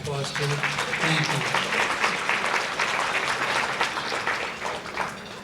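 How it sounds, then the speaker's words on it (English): An audience at a United Way of Greater Plymouth County annual meeting claps steadily throughout, a dense, sustained round of applause, with a voice speaking briefly over the start. "So please give Carol a round of applause too."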